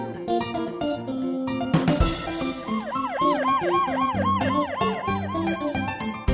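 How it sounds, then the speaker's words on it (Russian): An ambulance siren in an animated Russian-language children's song about road rangers wails in a steady repeating rise-and-fall over bright, busy music, entering about midway and continuing to the end. "Здесь скорая помощь по имени Донна"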